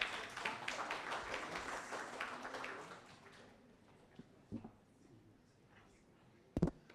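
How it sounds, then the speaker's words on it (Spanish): Audience applause for a panel speaker at a university event, a burst of clapping for about three seconds that quickly fades, followed by near quiet with a few scattered taps and a sharp knock. "Un aplauso."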